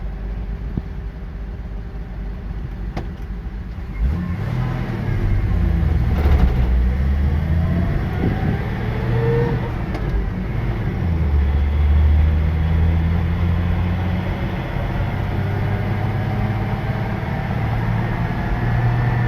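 A 1986 Dodge D100 pickup truck with an old carburetor and new brakes and bearings gives off a steady whine while driving, rising and falling in pitch over the engine's loud, constant drone, with no talk.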